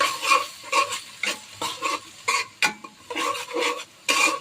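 Onions hit hot oil with bay leaf, garam masala, cinnamon and cloves for bhuna khichuri, giving bursts of sizzling and repeated scraping stirs in an uneven rhythm, close and fairly loud, with no voices.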